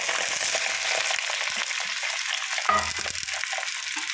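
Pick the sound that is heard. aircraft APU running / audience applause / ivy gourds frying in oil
ivy gourds frying in oil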